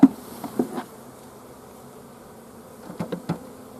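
Low honey bee buzzing hums steadily close by during a winter hive inspection, with a few brief louder bumps and rustles; no voices.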